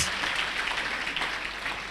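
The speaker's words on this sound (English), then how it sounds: "Give Jesus a clap offering from your heart." A church congregation claps together in a steady, dense wash of applause, fairly loud and continuous throughout.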